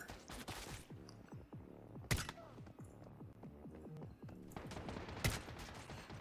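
Sniper and automatic gunfire rattle through a firefight in the survival shooter Once Human, with two sharp, loud sniper cracks standing out above continuous bursts of rapid shots.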